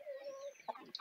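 Roosting chickens and a rooster on a perch make a short burst of soft clucks and chirpy calls, fairly faint and close, a drawn-out tone followed by a few quick notes.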